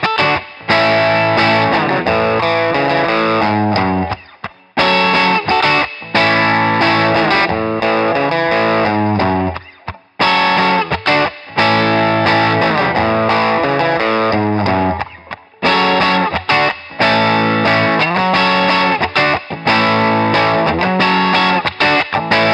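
Electric guitar played through a GarageBand distortion preset, loud and heavily saturated chords and riffs in repeated phrases separated by short silent breaks, with no voices.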